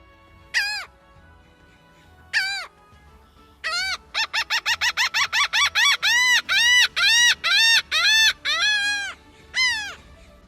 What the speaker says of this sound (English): Laughing gulls have signature black heads and an iconic laughter-like call.